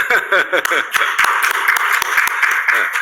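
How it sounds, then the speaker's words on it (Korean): A church congregation breaks into applause for the pianist, a dense patter of clapping hands, while a voice speaks over it near the start. "이 기회에 박수 한번 내드립시다."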